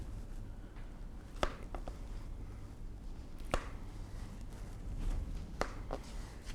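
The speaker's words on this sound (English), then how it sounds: "you want to help me cut these slices just like this?" A knife cuts fruit slices for a breakfast pizza, giving a handful of sharp, quiet chops on a board in small clusters, spaced a second or two apart over a low room hum with no talking.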